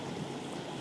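Water flows in the Minecraft video game as a soft, continuous trickling rush, faint and even throughout the brief moment.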